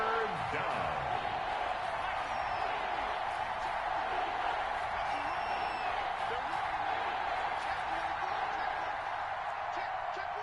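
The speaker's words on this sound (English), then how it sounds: "The crowd's not doing that O-line any favors." Constant stadium crowd roar in a Madden football video game, a dense, even murmur of many voices with faint shouts, sustained throughout at moderate level.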